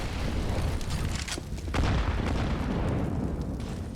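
Grenade explosions in a Counter-Strike match on the Inferno map, heard as dense, continuous booming rumble and bursts that stay loud throughout with no talk.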